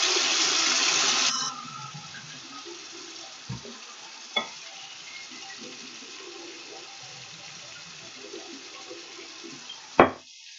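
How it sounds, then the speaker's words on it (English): Tap water runs into a container for washing tweezers used for lash tinting, a steady broadband rush for about a second and a half, then quieter dribbling with a few clinks and knocks nearby. "let me go ahead and fill up my container"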